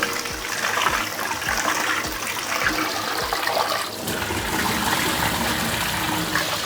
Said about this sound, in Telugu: ఈ పంపు నీళ్ళతో కడుగుతా బియ్యము